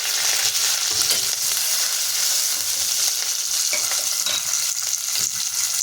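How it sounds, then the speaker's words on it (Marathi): Curry leaves and garlic hit hot oil in a pan while cooking vada pav, giving a loud, continuous hissing sizzle that stays even throughout with no voices. "आता ह्याच्यामध्ये कढीपत्ता टाकूया"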